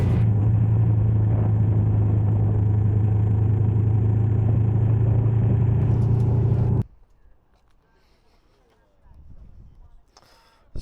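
A Yamaha MT-07 motorcycle rides along a road, a loud steady engine drone with rushing wind for about seven seconds, then it cuts abruptly to near quiet with a faint low rumble.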